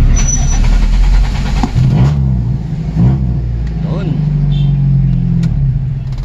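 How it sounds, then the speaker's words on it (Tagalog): Toyota Corolla on a test start after a starter carbon brush swap: a quick crank fires into a close, loud engine rev that rises and falls a few times before settling to a steady running drone. "So yung mga paps, one click, napakalakas na nung kanyang starter."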